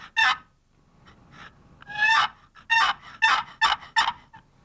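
A wooden turkey box call scraped into a basic yelp: a short opening note, a pause, then a run of five sharp, raspy yelps in quick even rhythm, loud and close.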